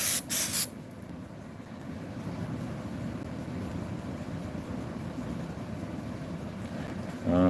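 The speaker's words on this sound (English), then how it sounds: "I'm gonna get Wesley to spray it" Glue sprays from a can onto a seat during upholstery work, a steady continuous hiss lasting several seconds between short bursts of louder noise at the start and end.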